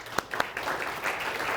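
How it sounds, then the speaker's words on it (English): A few sharp early claps swell into steady audience applause at a Columbia University talk, welcoming the OpenClassrooms CEO, moderately loud and continuous in a large room. "So please join me in welcoming Pierre with a round of applause to Columbia."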